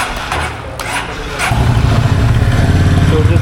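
A Honda CB350 RS in neutral starts up partway through, and its exhaust settles into a loud, close, thumping idle that carries steadily to the end, without speech.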